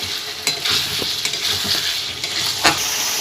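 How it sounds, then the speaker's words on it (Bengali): Pre-fried potatoes are stirred in hot oil for a katla fish curry, giving a steady broadband sizzle with scraping spoon strokes and a sharper clatter near the end. The cooking is close and continuous, and no one speaks. "আলুগুলো যে ভেজে রেখে দিয়েছিলাম সেগুলো ভালোভাবে কষিয়ে নেব"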